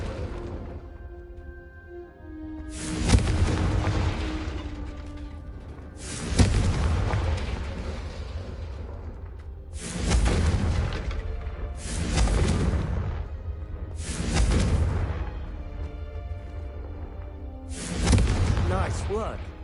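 Several heavy Confringo spell blasts from Hogwarts Legacy strike candelabras one after another at roughly two-second intervals, each a loud booming burst with a crackling tail over a low ambient hum.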